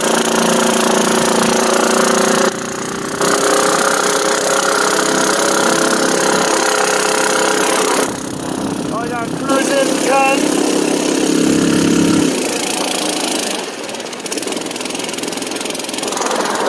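A Mud-skipper longtail boat engine with a homemade custom exhaust runs loud and steady close by, giving a buzzing, knocking drone with short dips, brief shifts in pitch and some faint talk.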